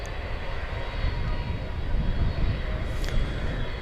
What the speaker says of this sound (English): we've got a MD-11 on the move